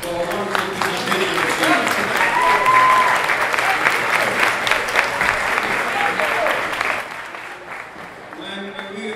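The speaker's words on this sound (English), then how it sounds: "let's give a warm applause to thank our panelists for a wonderful presentation" Audience at a town hall forum on Ferguson applauding panelists, loud sustained clapping from a large crowd that swells and then tapers near the end, with a few voices mixed in.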